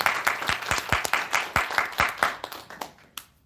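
A small audience claps for a lecturer at a Korean seminar, a few dozen distinct hand claps in a loose, uneven rhythm, fairly close and thinning out toward the end.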